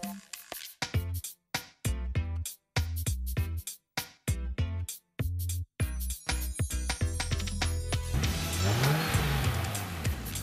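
A 2013 Hyundai Genesis Coupe with a 3.8-litre V6 and rear-wheel drive revs in a series of sharp, chopped bursts, then settles into a sustained loud engine roar with a rising and falling pitch.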